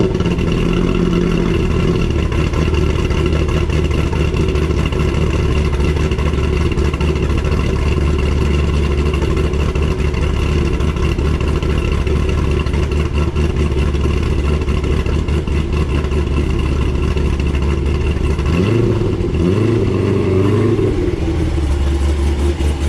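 Stick-shift Corvette engine with a cam, running loud and close with a lumpy, throbbing idle and a few blips of revving toward the end, no talk over it.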